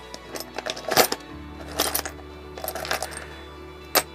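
Old Chinese coins and small metal trinkets clink and rattle in a box, in short, irregular bursts of jingling over a steady low hum, ending with one sharp clink.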